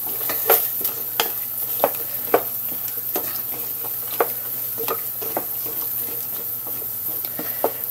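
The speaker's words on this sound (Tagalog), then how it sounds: "Pagsasabay-sabayin ko na yung ating gulay. Talong, sitaw, okra," Eggplant, long beans, okra and green chili sauté together in a pan, a continuous close sizzle punctuated by sharp, regular clacks of a spatula stirring against the pan.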